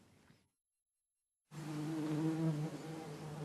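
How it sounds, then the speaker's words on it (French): Honeybees forage in an alfalfa field in the early morning, a steady close buzzing drone that starts abruptly after a brief silence and continues unbroken. "Des abeilles en plein travail dès les premières heures de la matinée."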